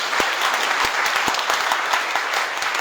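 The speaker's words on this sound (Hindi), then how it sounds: "एक बार जोरदार ताली बजाइए, जबरदस्त ताली" Seminar audience at an IMC network marketing program claps loudly and continuously, a dense roar of hands with a few sharp individual claps standing out close by.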